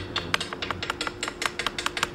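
Rapid, irregular light taps of a sponge dabbing acrylic paint onto a tile, a quick close-up series of soft clicks with no talk.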